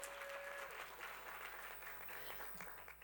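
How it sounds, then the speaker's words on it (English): An audience at a women's health event in Kigali, Rwanda applauds steadily, a faint, even clapping that fills the room. "A round of applause to that."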